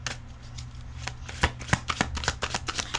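Tarot shadow cards being shuffled, a quick series of crisp papery riffles and slaps, close and fairly quiet, with no voices.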